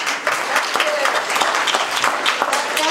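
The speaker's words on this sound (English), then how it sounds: "So let us encourage her with a hearty round of applause." A crowd at a Martin Luther King Day event claps heartily for Representative Carolyn Maloney, a loud, dense, steady wash of applause with voices mixed in throughout.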